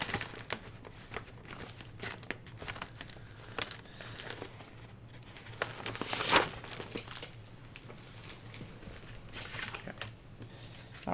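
Scraps of coffee-dyed paper are handled up close, making soft crinkling and rustling with light taps and shuffles, faint and continuous with a slightly louder crumple midway.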